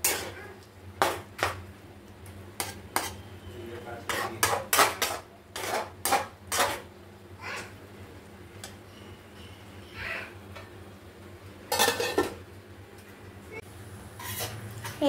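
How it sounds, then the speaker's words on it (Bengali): Spoon scrapes and clanks against a pot while lentils and potato are stirred, then a lid is set on with a knock; sparse, separate clinks and taps come out of a quiet room over a low steady hum. "এবার আবার ভালো করে নেড়ে ছেড়ে ঢেকে রেখে দেব"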